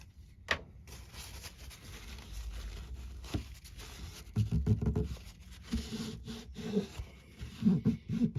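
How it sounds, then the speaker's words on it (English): A small chisel scrapes excess off the top of a Yamaha FG acoustic guitar during a budget crack repair: soft, intermittent rubbing scrapes, with clusters of short strokes in the second half, close and fairly quiet. "Or a small chisel or something just to scrape off the excess."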